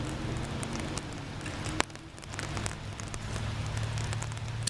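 Rain falls outdoors during a dog training session, a steady, moderately loud broadband hiss and patter throughout with one sharp tap partway through.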